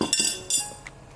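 Kitchen utensils clink and knock as they are pushed aside on a counter while breaded risoles wait to be fried, a few short metallic chinks, near and moderately loud, with no talking.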